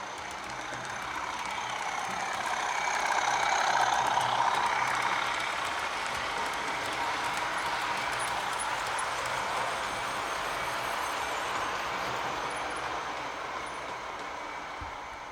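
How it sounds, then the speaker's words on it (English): A sound-equipped model train locomotive passes close by, its steady rumble and hiss swelling to a peak and then easing off gradually as it moves on, with no talking. "have the locomotive go past your camera with the sound on"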